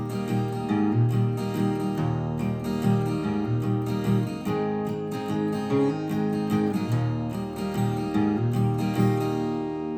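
A guitar plays the verse chord progression of a song, with close, full strums and picked notes moving steadily through the changes, with no voices.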